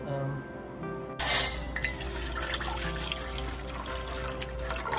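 Water runs steadily while sugar syrup is being made in a kitchen, giving a continuous close stream that starts abruptly and carries on under a speaking voice.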